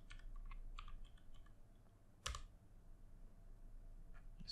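Quiet keystrokes on a computer keyboard come in short bursts and pauses, with one louder click or bump in the middle, close and faint in a quiet room.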